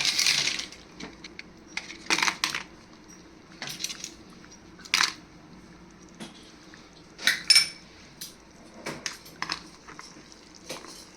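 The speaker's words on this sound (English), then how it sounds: "Now you can add in the crispy tortillas" Crispy tortillas go into boiling salsa for Indian-style chilaquiles, with scattered crunchy clatters and scraping clinks of utensil against pan in short irregular bursts, no talking.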